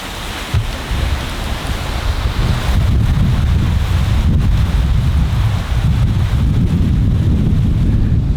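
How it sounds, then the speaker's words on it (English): Strong wind buffets the microphone outdoors in a Florida cypress head during a turkey hunt, making a constant low roar that swells slightly partway through and stays loud and unbroken, with no talking. "as you can see and hear, it's still pretty windy"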